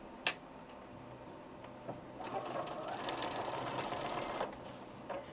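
A sewing machine stitches a straight seam across an egg apron, its steady needle chatter running through the middle of the clip after a few scattered clicks and taps.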